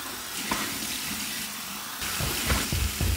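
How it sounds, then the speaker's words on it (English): Cold tap water runs into a sink for a rinse while shaving, a soft hiss of flow with faint splashes, then louder splashing and dripping toward the end as hands move under the stream. "All right, here's my cold water rinse."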